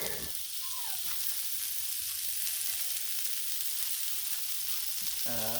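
Marinated steak sizzles on a Blackstone griddle in a constant, even hiss with light crackle, moderately loud and close, with a brief whistling tone at the start and end and no talking.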